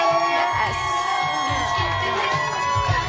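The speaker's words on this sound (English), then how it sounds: "That's all the overflow crowd going on right now. And you can hear them going, fight, fight, fight." Overflow crowd at a Trump and Vance rally in Asheboro, North Carolina, cheering and chanting, a dense mass of voices with rhythmic swells and shouts, steady and loud throughout.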